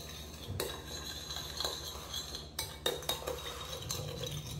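Sugar is stirred into anchovy sauce for Korean stir-fried anchovies (myeolchi bokkeum): quiet, close scraping and clinking of a utensil against the pan in irregular strokes, with a few sharper knocks.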